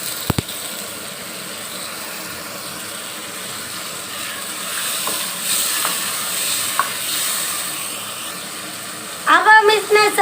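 Ojri (tripe) in a pan on the stove with a splash of water, giving a low, steady sizzle and bubbling, with a few faint clinks and a brief burst of voice near the end.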